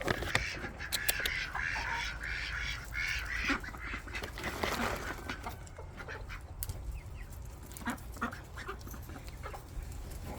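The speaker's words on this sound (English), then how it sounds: "Oh, the ducks want it." Ducks quack and other farm birds call in a backyard flock while being fed treats. Short calls scatter over steady background noise throughout, close and fairly loud, with no talking.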